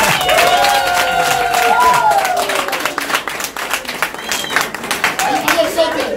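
Audience at a nomination ceremony for a deputy director in Pointe-Noire, Congo, clapping steadily for several seconds, with scattered cheers and voices mixed into the applause.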